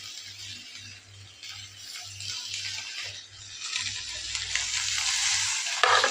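Strained leftover soaked rice (panta bhat) tipped into a pan of spices with salt and turmeric, giving a soft sizzle and stirring scrape that swells louder toward the end, over a low rhythmic hum.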